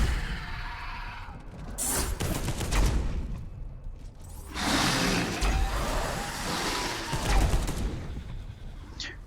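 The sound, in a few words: gunfire shooting genestealers in Space Hulk video game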